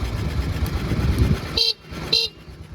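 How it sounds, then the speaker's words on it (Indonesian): A 1955 BMW R25 motorcycle's engine rumble gives way to two short, loud horn beeps in quick succession, close to the listener. "Klakson nyala juga."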